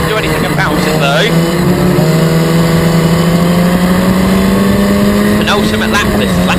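Historic Formula Ford race cars at Snetterton in 2014 scream down the straight. The engines make a loud, sustained, close-up drone that rises steadily in pitch as they accelerate, and a race commentator talks over it.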